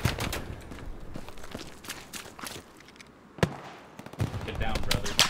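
Rapid bursts of video game gunfire crackle in uneven volleys, with a sharp loud shot near the middle and denser firing toward the end, while a player's voice talks over much of it.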